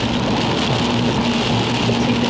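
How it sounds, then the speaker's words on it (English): Steady rain falls outside, heard as a dense, continuous hiss with a faint low hum of a vehicle beneath it, no voices. "It's raining right now."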